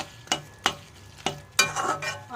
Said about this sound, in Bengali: একটুখানি নাড়িয়ে চাড়িয়ে এটাকে কষাতে থাকব